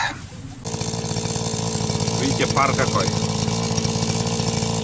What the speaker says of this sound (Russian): Я уже запустил двигатель, триммер работает.